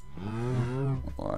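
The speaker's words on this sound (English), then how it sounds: "let's just breed a few more cows" A Minecraft cow gives a drawn-out low, wavering moo in the video game during cow breeding, followed by a brief snatch of other game noise.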